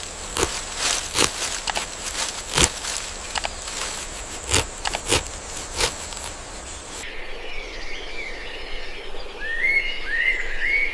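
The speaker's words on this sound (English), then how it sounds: "The first bird calls pierce the darkness." Bird calls in the Amazon jungle at dawn: repeated chirps and whistled notes ring out over a dense insect chorus, joined later by rising warbling calls, with rustling footsteps on the forest floor early on.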